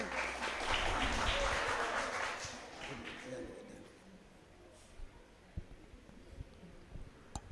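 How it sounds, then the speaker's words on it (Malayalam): An audience claps at a youth retreat. The applause swells loudly for about three seconds, then fades into scattered claps and taps. "ശരിക്കൊന്ന് കൈയടിച്ചേ"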